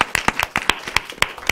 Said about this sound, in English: I want you guys to applaud one more time, please, for our lovely speakers.